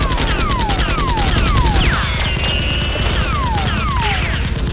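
Dense rapid-fire shooting in an action scene with Nerf guns, sustained and loud, rattling bursts overlapping throughout, with whistling, sweeping tones and mechanical clatter mixed in.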